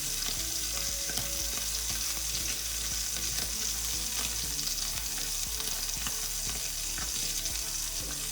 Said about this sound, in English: So we're gonna let that sear nicely for a few minutes.